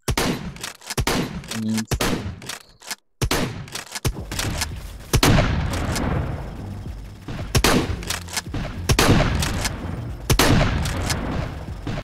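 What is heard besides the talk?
shotgun firing in the VR game XLR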